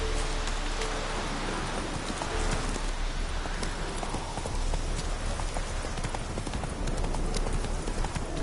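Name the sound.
horse hooves clip-clopping, from a video game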